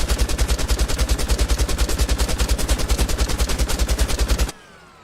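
A Doom video game chaingun fires a fast, evenly spaced stream of loud, punchy shots for about four and a half seconds, then cuts off abruptly into a short, quiet tail.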